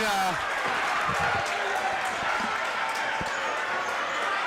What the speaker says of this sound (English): the crowd getting a little hype there